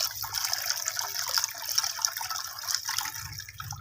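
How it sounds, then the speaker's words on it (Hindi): Cold water pours over cooked spaghetti sitting in a basket in a kitchen, a steady close splashing rush with light dripping, and no voices. "ये ठंडा पानी डालेंगे,"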